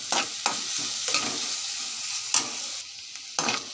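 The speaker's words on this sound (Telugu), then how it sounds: "కట్ చేసుకున్న బీన్స్, క్యారెట్, ఆలు, వెజిటేబుల్స్ అన్నీ బాగా వేగాలండి." Beans, carrot and potato frying in a pan for vegetable rice: a steady close sizzle broken by several sharp scraping stirs of the spatula.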